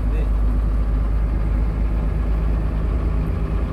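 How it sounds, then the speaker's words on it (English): A HOWO truck engine braking while slowing down, a steady loud low rumble that holds evenly for a few seconds with talk over it. "Engine brake, you just need to reduce the speed."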